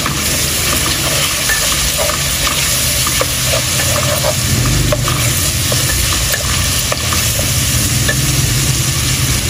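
Spices and pigeon meat frying in oil in a home kitchen, a loud continuous sizzle and hiss with occasional stirring scrapes throughout.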